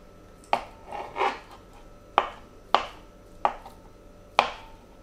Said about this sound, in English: Now cut the eggs into squares too.